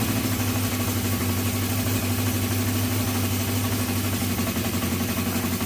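A Honda CB350 motorcycle engine idles steadily during carburettor balancing, a close, continuous low throb with an even rhythm and no speech.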